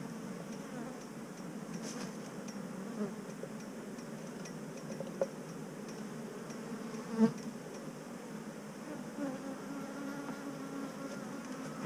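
Honey bees in nuc hives hum in a steady, dense drone close by, with a few faint clicks and taps of handling the hive now and then.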